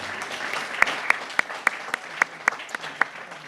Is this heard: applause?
yes